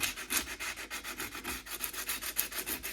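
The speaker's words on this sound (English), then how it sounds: "I am using the attachment with the sandpaper and applying the reciprocation manually" Sandpaper attachment worked back and forth by hand to scrub rust off an old Sansui SR-4050c turntable, giving a steady run of close, rhythmic rasping strokes with no talk.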